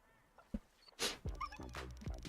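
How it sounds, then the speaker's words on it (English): A dog in the video game Soviet Spooky Tales: Green Eyes gives a quick yip, then a string of close, eager barks and whimpering yelps after a brief scrabbling. "The dog scrabbled with its paws and rushed after the branch."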